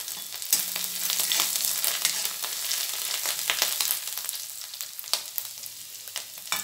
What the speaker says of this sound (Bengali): এবার 1 চামচ রসুন কুচি দিয়ে দিলাম। একটু নেড়ে নেব।